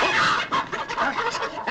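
A voice imitating a chicken's clucks in a 1952 Three Stooges slapstick comedy, a loud, close run of rapid squawking cackles.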